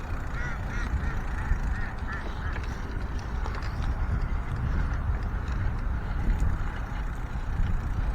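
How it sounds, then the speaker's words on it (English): A group of ducks quacking on a lake at night among holiday lights, a few faint, rapid quacks early on over steady outdoor background noise, heard from a distance. "a bunch of ducks in the middle of the pond"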